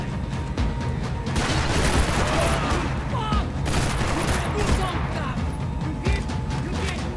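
Pistol fire and chaotic shooting in the game Max Payne 3 on Xbox 360 come as dense bursts of loud shots and crashes, with someone talking over the action.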